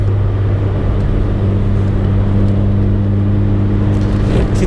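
Steady engine drone from an MK2 VW Golf GTI cruising in fifth gear on a wet road, a low constant hum with road and tyre rumble inside the car, no talking.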